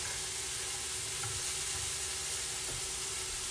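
Onions for smothered steak fry in a pan with a continuous loud sizzle and hiss, punctuated by a few soft stirring scrapes and no speech.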